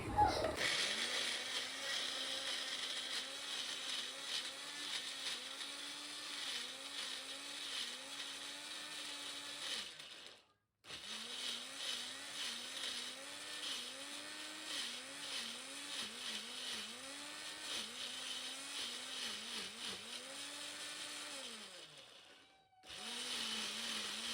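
Mixer grinder crushing ginger and garlic in a home kitchen, a steady whirring motor drone with pitch wobbling as the load shifts, running continuously with two short stops, close and fairly loud.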